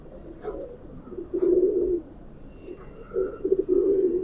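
A large pigeon cooing nearby, soft low rolling coos in short phrases separated by brief pauses, with quiet background noise.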